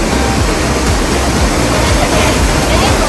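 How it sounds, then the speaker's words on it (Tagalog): Aw-Asen Waterfalls in Ilocos Sur, the tallest falls in the region, pours in a loud, steady, continuous roar of rushing water that fills the whole scene, with no pause or change. "Welcome to Auasen Waterfalls here in Ilocos Sur."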